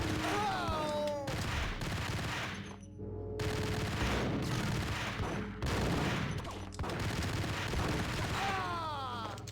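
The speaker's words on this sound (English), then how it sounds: "Who's shooting at me now?" Heavy gunfire in Max Payne, sustained bursts and repeated loud shots rattling almost without pause, with a brief lull partway through and a voice faintly under the shooting.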